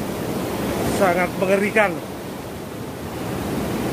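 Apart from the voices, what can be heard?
strong ocean waves at Nampu beach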